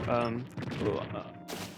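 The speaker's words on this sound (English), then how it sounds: "There's a lot of cannon stuff going on here." Cannon blasts boom through the shipwreck level of the Beard Blade video game, with several dull thuds in quick succession and a sharp, bright burst near the end, mixed with game sound effects.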